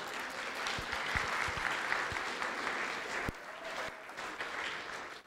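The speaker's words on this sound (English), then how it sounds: "give them a big round of applause" An audience at a college faculty symposium gives a big round of applause, dense sustained clapping that fills the room and thins slightly toward the end.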